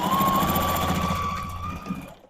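A sewing machine runs steadily while back stitching along a quilt border, its close mechanical whir and rhythmic needle chatter carrying on for about two seconds before stopping.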